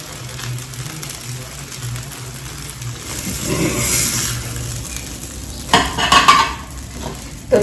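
A green moong chila fries in oil on a pan, sending out a steady close sizzle that swells midway, followed by a few louder scraping clatters of a spatula near the end.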